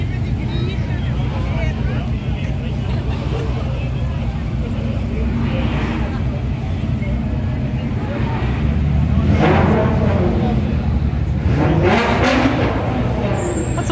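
A Mosler sports car pulls in at a Gumball 3000 rally arrival in Edinburgh, its engine revving in a few rising bursts over a noisy street crowd and nearby voices talking.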